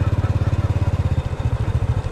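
A motorcycle engine idles close by, its steady rapid low thumping pulse running alone throughout with no talk over it.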